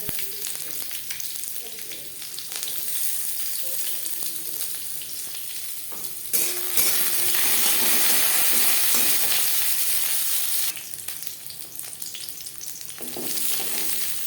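Chicken sizzles and fries in hot oil with ginger and garlic, dried red chillies and bay leaves for butter chicken, a steady loud hiss that surges louder midway with occasional stirring clatter.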